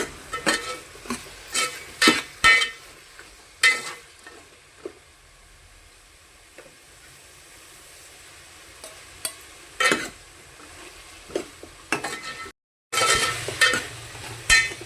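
Chicken masala being stirred with salt in a pan, a spoon scraping and clinking against the metal in irregular bursts over a faint sizzle, close and without talk.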